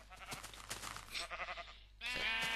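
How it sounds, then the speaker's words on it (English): A sheep bleats in Minecraft, its short wavering cries repeating amid other game sounds, fairly faint and with no voices over them. "Let's find a sheep."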